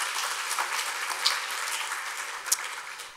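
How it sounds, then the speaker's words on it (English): An audience at a college honors convocation applauds to thank the Sodexo catering staff. The clapping is moderate and somewhat distant, with a couple of sharper individual claps standing out from the steady patter. "I think a round of applause is well-deserved"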